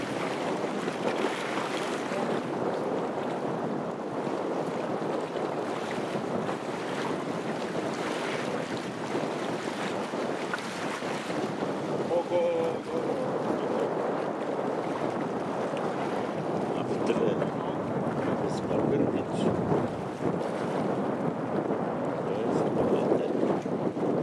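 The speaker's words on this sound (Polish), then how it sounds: "zbliża się do przystani nasza łódź Glasgow" A glass-bottom tour boat nears the harbour at Vodice, its steady low engine rumble blending with water wash and gusts of wind noise, continuous and fairly loud throughout with no talk.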